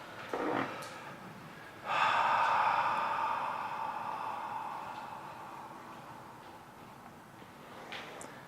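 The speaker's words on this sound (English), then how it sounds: "Just breathe that in and out now." Slow, deep breaths in and out during a guided meditation: a brief sharp inhale, then a long, loud exhale that fades gradually, with a faint breath near the end. No voices.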